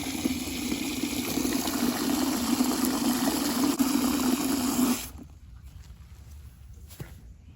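Water running as soapy water is mixed up for racing pigeons, a steady close splashing, filling rush for several seconds before it stops, leaving faint background noise.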